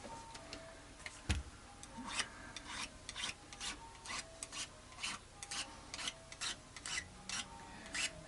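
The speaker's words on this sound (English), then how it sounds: "I might just run down with a 600 block of rubber foam with a 600 grit, just to polish this" A guitar body is rubbed by hand with a rubber foam block and 600-grit paper, giving a series of soft, rhythmic scratchy strokes at close range, fairly quiet, with one sharper knock partway through.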